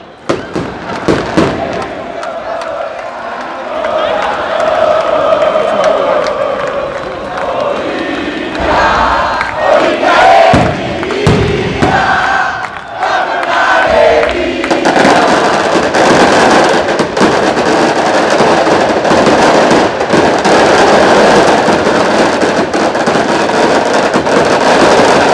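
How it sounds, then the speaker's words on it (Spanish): Fireworks burst repeatedly over a loud, continuous crowd roar at a Paraguayan league football match between Olimpia and Libertad, with sharp cracks standing out through the stadium noise and a few voices shouting. "Fuegos artificiales"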